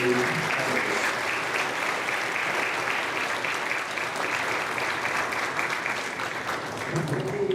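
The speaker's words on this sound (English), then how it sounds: "Let's give them one last round of applause here." Sustained, dense applause from an audience at a high school National Honor Society induction ceremony, a continuous wash of many hands clapping at a steady level throughout, filling the room with no clear voices.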